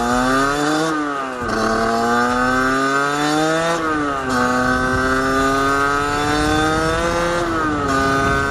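A motorcycle engine with a slipping clutch revs loudly and close, its pitch climbing and dropping in repeated surges with no settling into steady drive, filling the whole stretch without any talk.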